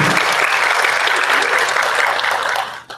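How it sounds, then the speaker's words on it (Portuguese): An audience at a Latin American congress conference claps for a speaker in a strong, sustained burst of applause that fills the room and fades out abruptly at the end. "eu peço uma salva de palmas para ele"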